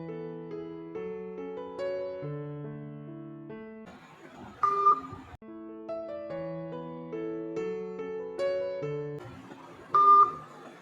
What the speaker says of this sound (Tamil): இப்போ இந்த மொபைல்ல இருந்து உங்களுக்கு கால் பண்றேன்.